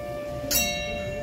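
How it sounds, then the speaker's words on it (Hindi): A bell on a large Buddhist prayer wheel rings once as the wheel completes a rotation, a single bright struck tone with a lingering shimmer, moderately close over a steady background hum. "जैसे ही इसका एक रोटेशन कंप्लीट होता है तो एक वो घंटी बजती है"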